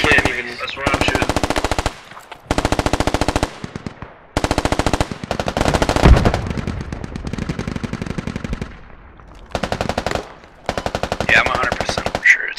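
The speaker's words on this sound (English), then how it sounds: "I'm getting screamed at in command chat for friendly fire from the machine guns from all the airbase" Machine guns blaze in the military shooter Squad at an airbase, in long loud bursts of rapid automatic fire separated by short pauses, with a voice speaking briefly between bursts.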